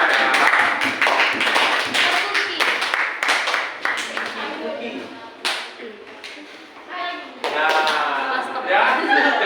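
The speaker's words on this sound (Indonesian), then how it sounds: "Ya, tepuk tangan buat siapa namanya? Eva. Ya, boleh tepuk tangan." Classroom applause for a student named Eva, a burst of many hands clapping fairly close and steady through most of the clip, with a teacher's voice speaking over and between the claps.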